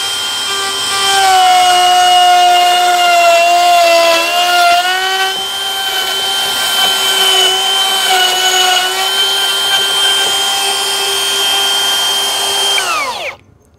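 A Hikoki battery half-inch router cutting a worktop joint along a jig, a loud steady high-pitched whine with shifting pitch as it bites, ending in a spin-down.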